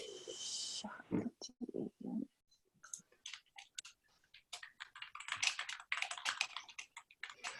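Typing on a computer keyboard during an online group session, a quick scatter of light clicks and taps in uneven bursts, fairly quiet and close, with a short stretch of other noise at the start.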